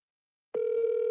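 A single telephone ring tone with a steady electronic pitch starts abruptly halfway through and continues unbroken, clear and alone, on a call that goes unanswered.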